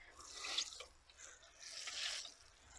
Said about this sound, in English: I'm just going to water it again.